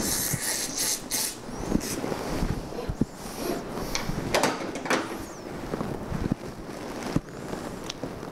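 Seltzer spraying from a siphon into a Campari Seltz served in a bar in Milan, an uneven fizzing hiss with bursts of spray and small clinks, close and fairly loud with no voices.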